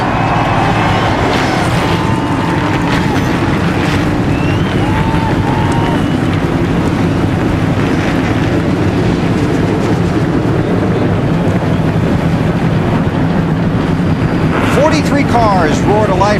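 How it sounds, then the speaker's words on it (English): NASCAR Busch Series race car engines fire up and roar together on pit road at Michigan. The dense, loud, continuous rumble lasts the whole stretch, with a commentator speaking over it. "Cars roar to life on pit road."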